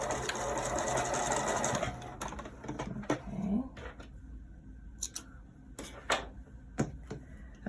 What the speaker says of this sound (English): I'm going to stop, and I am going to sew that down right on the edge